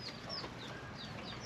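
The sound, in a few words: chickens clucking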